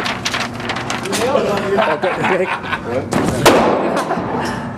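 Shotgun blasts at a Las Vegas gun range, loud booming reports ringing out between stretches of people talking nearby.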